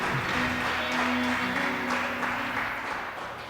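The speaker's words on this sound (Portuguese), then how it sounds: "Aplauda Ele" A church congregation applauds during a live worship service, steady broadband clapping filling the room with a faint sustained tone beneath it.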